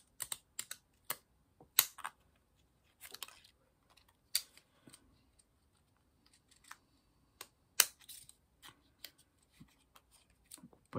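Scissors snip through thick paper while making a small decorative shabby-style card, giving sparse, crisp close-up cuts and clicks in irregular clusters with quiet gaps between.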